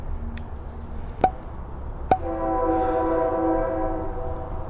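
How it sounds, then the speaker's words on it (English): A passing train sounds its horn, a sustained multi-tone blast that follows two sharp clanks and holds steady over the rumble of the train, fairly close and loud. "Here comes a train."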